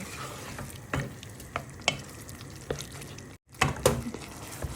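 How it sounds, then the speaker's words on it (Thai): Chili con carne sauce mixed with hot water is stirred in a pot, with irregular spoon scrapes and knocks over a soft, steady simmering sizzle; one brief total dropout near the end. "ชิลิคองคาเนที่เราผสม นะคะกับน้ำร้อนลงไป นะคะ แล้วเราก็คนให้มันเข้ากัน"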